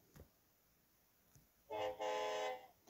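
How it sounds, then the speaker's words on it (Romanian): Horn blasts from a metro train in Real Russian Train Simulator: two sustained tonal honks back to back, loud against a quiet background after a faint click. "Are un claxon foarte normal, numai metrou nu e."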